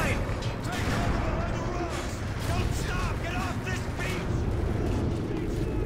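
Battlefield gunfire and heavy blasts around a tank in Call of Duty: Modern Warfare 3, dense overlapping shots and rumbling booms throughout, with voices speaking over the din.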